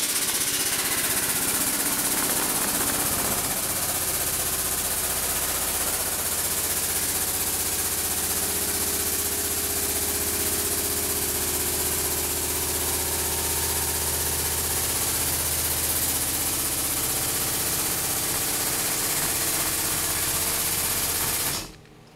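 An air-over-hydraulic pump fitted to a Harbor Freight motorcycle lift table runs with a steady, loud mechanical drone and vibration for about twenty seconds, then cuts off abruptly.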